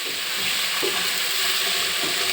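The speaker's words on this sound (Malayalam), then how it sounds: "അങ്ങനെ നമ്മൾ ഉള്ളി വഴച്ചിക്കൊണ്ടിരിക്കുകയാണ്" Four onions sauté in a pan for chicken biryani masala, giving a close, continuous hissing sizzle throughout the short stretch with no speech.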